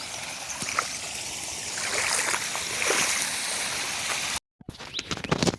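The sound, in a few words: irrigation water flowing into field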